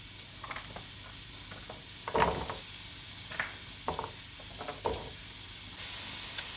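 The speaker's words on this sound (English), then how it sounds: "we're going to add a couple tablespoons of olive oil to our pan. And then we're going to add in our onions and butternut squash" Onions and butternut squash sizzling in olive oil in a pan, a steady low crackle with a few louder bursts of spitting and stirring scattered through, close and alone without talk.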